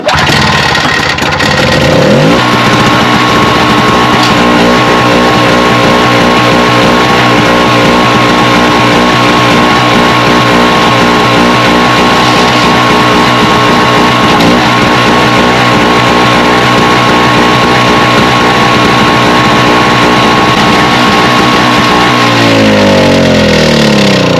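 An MTD snowblower's small engine catches after a couple of seconds and roars loud and steady at close range for about twenty seconds, then sputters and winds down at the end. No voices are heard.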